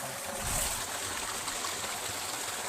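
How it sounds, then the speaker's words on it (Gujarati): Steady rushing water pours continuously into a tank, a broad hiss with a low gurgle underneath, close by and unbroken. "આ તો પાણી જાય છે આપણે"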